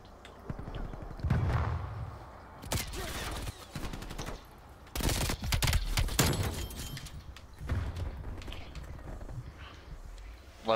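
Bursts of automatic gunfire in a Call of Duty Cold War multiplayer match, rapid volleys of shots repeating in several clusters with quieter gaps, close and sharp.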